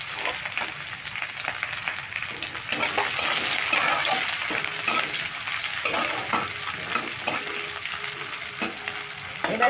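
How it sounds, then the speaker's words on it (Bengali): Thickly sliced onions fry in hot oil with a loud, steady sizzle, crackling and popping throughout at close range, with no voices. "পেঁয়াজগুলো আমি দিয়ে দিচ্ছি তেলের উপরে।"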